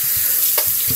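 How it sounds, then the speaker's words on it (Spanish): Sweet corn cobs rinsed under running water in a kitchen to wash off dirt and silk, a steady close splashing and trickling hiss with faint handling bumps. "ahora vamos a enjuagarlos un poco para sacarle la tierra que puedan tener"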